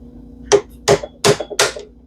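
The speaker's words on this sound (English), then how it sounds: "I've got a junk flat tip around here that I feel better beating on than my good Craftsman one." Four sharp metal strikes of a hammer beating on a junk flat-tip screwdriver, evenly spaced and close, with quiet between blows.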